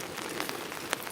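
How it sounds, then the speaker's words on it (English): Steady rain falls through a night at a campsite in Korea, a soft continuous patter with a few brief louder drops, heard without any voices. "And so we continue to enjoy our rainy night."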